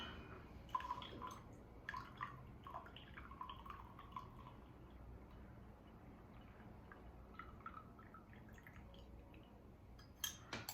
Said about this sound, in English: I just basically put the water in and poured it right out